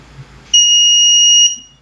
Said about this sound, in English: there was a sound coming from our buzzer